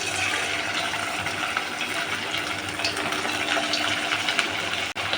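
Chicken pakoras fry in hot oil with a steady, loud, dense sizzling hiss that runs throughout and cuts out for a moment near the end.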